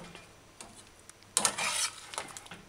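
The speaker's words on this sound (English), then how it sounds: "Stir it in your curry stew." A spoon scrapes and clinks in a pot as coconut milk is stirred into a chicken curry stew, quiet taps at first, then a louder burst of stirring and sizzle midway.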